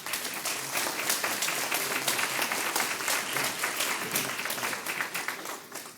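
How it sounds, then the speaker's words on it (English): An audience at a forum for ICC Board of Trustees candidates applauds steadily and densely for about six seconds, with no talk over it. "Please give them a round of applause."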